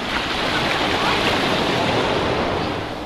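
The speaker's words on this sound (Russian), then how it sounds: "И вот лодка проехала, все, волна пошла." Sea waves churn and wash steadily after a passing boat, a loud, continuous broadband surf close by with no clear breaks, heard alone.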